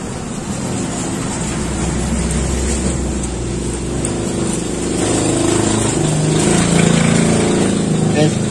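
A Toyota Kijang Super engine idles steadily with a rough, rumbling exhaust drone, growing slightly louder toward the end, with a voice talking over it.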